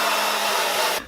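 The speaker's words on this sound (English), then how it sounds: "It's a hairdryer." A hair dryer blows with a steady, loud broadband whoosh, then cuts off abruptly at the end.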